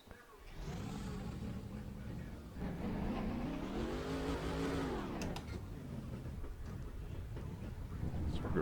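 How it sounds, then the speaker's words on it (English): Race car engines in the NASCAR Racing 2003 game at Talladega fire up and rev, building into a loud, sustained roar whose pitch climbs and falls in the middle, heard alone with no talking. "Drivers, start your engines!"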